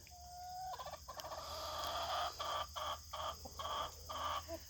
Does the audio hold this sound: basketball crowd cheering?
no